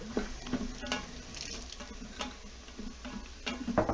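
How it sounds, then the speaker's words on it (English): Flour is stirred into a roux in an Instant Pot for beer cheese soup, with quiet sizzling and a series of spoon taps and scrapes against the pot at a moderate, uneven pace. "you add 1/3 of a Yeah, cup I can use whatever you want one. of flour"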